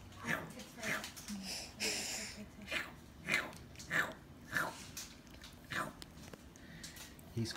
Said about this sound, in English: He's crunching them pretty good